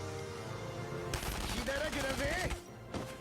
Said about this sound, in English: we're going to shoot for the center mass